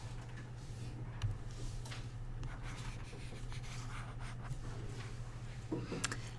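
Pen or marker writing by hand, a faint steady scratching and rubbing with a few light taps, under a constant low hum in a quiet room, no talking.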